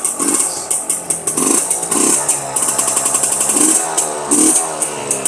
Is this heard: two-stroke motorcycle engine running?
yes